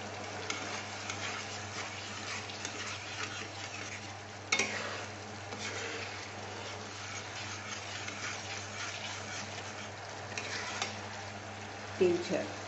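Masala sizzles steadily in oil in a pan for doi katla, stirred now and then with scraping strokes, close and fairly quiet with a low constant hum underneath.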